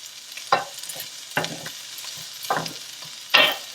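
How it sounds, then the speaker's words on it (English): Thick pieces of bacon sizzle in a frying pan with a steady crackle, broken by four sharp scrapes and clatters as the pieces are turned. "you'll notice as I flip the pieces over that they get a new sizzle to them"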